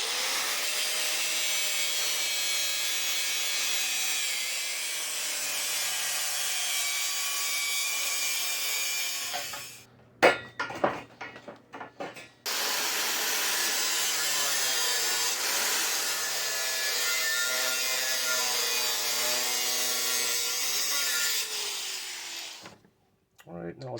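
A cutting disc grinds loudly and steadily through salvaged metal table rails, breaking off midway for a couple of seconds of scattered clanks before the harsh whine resumes.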